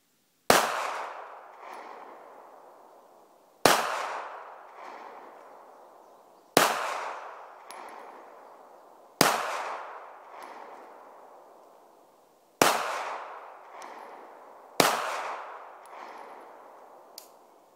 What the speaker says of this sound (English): I'm going to shoot it for you. I'm shooting 3 bottles at about 10 yards out, 30 feet.